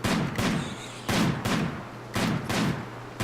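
Sniper rifles fire at alpha beavers in RimWorld, sharp shots landing in irregular pairs and single cracks, loud and near, with no voices.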